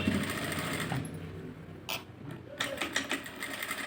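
A sewing machine runs steadily while stitching a lining blouse, a close, continuous mechanical whir with small shifts in pace and brief pauses.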